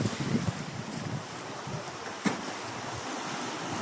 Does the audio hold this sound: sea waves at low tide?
yes